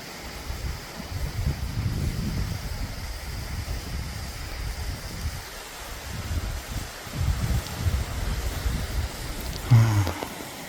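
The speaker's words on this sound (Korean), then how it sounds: "이쪽 계곡 쪽에서 흐르는 물이 이리로 흘러내리고 있습니다" Continuous rushing water with a steady broadband hiss, a mountain stream in a winter valley tumbling over rocks and ice nearby, mixed with gusty noise and a brief thump near the end.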